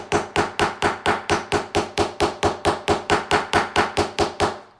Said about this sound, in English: you're going to continue to hit it